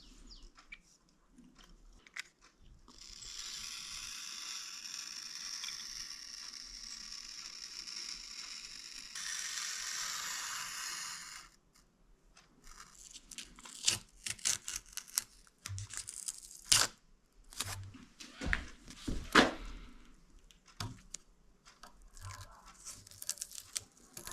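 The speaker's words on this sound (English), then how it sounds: "And now I will carefully cut the masking tape to these lines." Masking tape being cut, heard close and fairly quiet. A steady tearing and rasping stretch comes first, followed by scattered sharp clicks, snips and crinkles that are uneven in timing.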